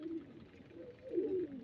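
Low, soft cooing of pigeons in a dark breeder loft at night, a murmuring drone that swells near the end, with no voices.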